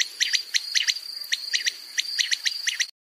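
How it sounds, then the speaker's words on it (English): Quail calling, a rapid series of bright, repeated chirping notes in short clustered bursts of two or three, close and clear, with no other sounds. "Quail."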